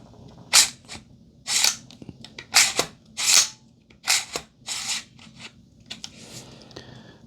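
A chrome rifle bolt carrier group is cycled and locked by hand, giving a series of sharp metallic clacks and sliding scrapes, about ten distinct actions spaced irregularly, fairly close and alone.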